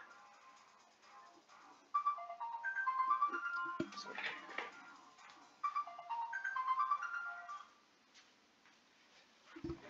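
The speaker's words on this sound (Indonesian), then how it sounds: "sorry teman-teman, ada telepon ya" An incoming phone call rings as a repeating melodic ringtone in two bursts, moderately loud, with faint room sound between and a brief pause before it resumes.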